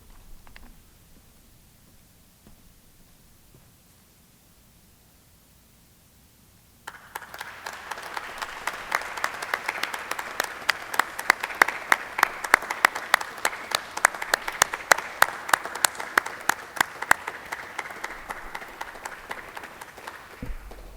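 Audience applause breaks out at a plaque unveiling ceremony for the 65th anniversary of the desegregation of Oak Ridge schools. A quiet room gives way to sustained, crisp clapping from a sizable crowd that holds steady and fades near the end.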